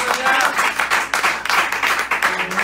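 A congregation breaks into steady, dense applause during an evening church service, loud and close, sustained throughout with voices mixed in underneath.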